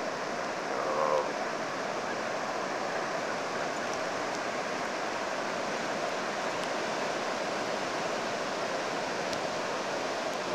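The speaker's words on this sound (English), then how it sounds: "The ocean." Ocean waves and surf rolling in at Ocean Shores, a steady broadband wash of breaking water with no distinct individual crashes, moderately loud and continuous throughout, with no talking.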